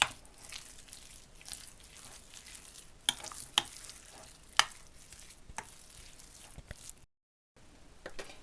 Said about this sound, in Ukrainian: Ретельно вимішуємо